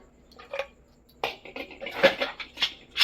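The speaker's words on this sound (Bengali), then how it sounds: "জল দিয়ে আমি ঢাকনা আটকে দিচ্ছি।" A pressure cooker lid is fitted and locked shut with a few close metallic clicks, scrapes and clanks in quick succession after a brief quiet start.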